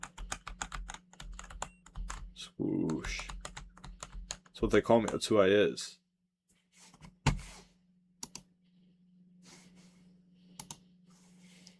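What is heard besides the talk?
typing on a computer keyboard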